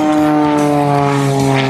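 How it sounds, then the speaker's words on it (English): An aerobatic XtremeAir XA41 / Extra 580 plane engine at an air show performance, a loud, steady droning buzz held without a break and no voices over it. "Oh, I love the sound of that motor."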